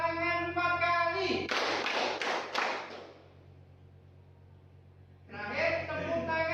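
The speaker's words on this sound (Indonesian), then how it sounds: "Tepuk tangan 4 kali." A class of students in an Indonesian primary school lesson claps hands together four times in a quick, loud burst, with a teacher's voice speaking just before and after.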